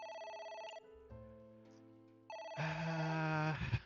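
An electronic phone ringtone in the video game AI: The Somnium Files plays a repeating synthesized melody, pausing briefly before swelling louder and fuller, with no talking.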